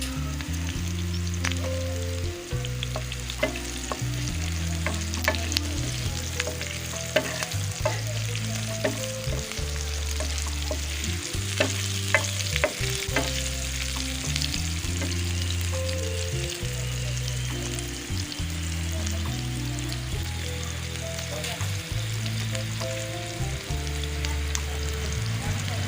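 Green chillies stir-fried with salt in a pan: a continuous sizzle under a rhythmic pattern of spoon knocks and scrapes repeating throughout, close and moderately loud, without talk.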